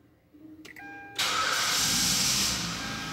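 A Hyundai Azera started without a key, using a code, gives a few short electronic chimes and clicks, then the engine cranks and catches with a sudden loud, hissy roar that settles into a steady idle.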